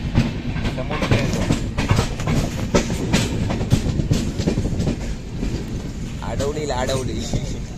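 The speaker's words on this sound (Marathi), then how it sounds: "समोरून पण ट्रेन येते." An oncoming train passes close by with a loud, continuous rumble and rhythmic clickety-clack of wheels on the rails, while people talk over it.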